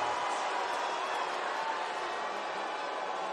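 A WWE SmackDown wrestling arena crowd boos in a steady, dense roar that holds at an even loudness throughout, with no clear break.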